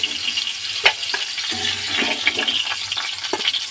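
Bitter gourd frying in hot oil, a close, bright, steady sizzle broken by several quick crackles and utensil stirs, fairly loud, with no one speaking.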